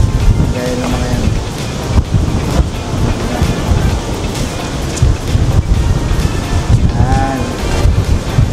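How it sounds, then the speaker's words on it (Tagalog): Strong gusting wind roars over the microphone with surf rumbling beneath, steady and loud throughout. "Medyo mahangin."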